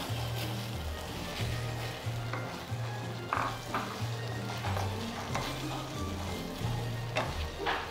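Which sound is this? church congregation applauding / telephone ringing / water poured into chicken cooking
water poured into chicken cooking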